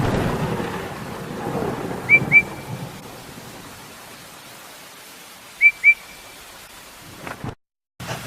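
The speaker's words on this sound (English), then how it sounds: "The rain was very heavy now, and the river was rising fast." A heavy rain and thunderstorm in a Percy the Small Engine story: low rumbling thunder and a wash of rain, with two quick pairs of high engine whistle toots cutting through before the storm sound breaks off.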